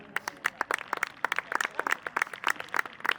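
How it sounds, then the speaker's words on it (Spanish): An audience at a Leonese wrestling exhibition in a park in Zamora claps in a quick, uneven patter of close hand claps that runs steadily and stays fairly light. "Aplauso para Estefan"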